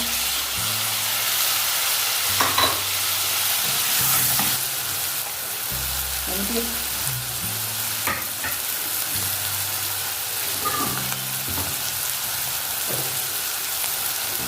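Tomatoes drop into a pan of translucent frying onions, setting off a loud, continuous sizzle with crackling spatters and occasional stirring scrapes, close up and with no talking.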